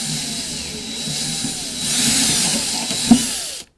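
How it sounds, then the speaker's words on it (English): Power drill boring a hole into a plastic syrup jug, running steadily at slow speed for several seconds with a brief louder bite near the end before stopping, close up with no talk. "I like to go slow at this point, just to let the drill do its thing."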